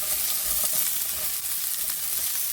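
Onions fry in very hot oil in a pan, giving a steady, dense, loud sizzle that runs unbroken through the whole clip, close by and with no one speaking.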